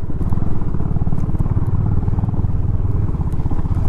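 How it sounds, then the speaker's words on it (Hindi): A motorcycle engine chugs steadily and close by as the bike rides across a farm field, its loud, even exhaust pulse running without a break the whole time. "आज खेत पे राइड कर रहे हैं, खेत पे राइड।"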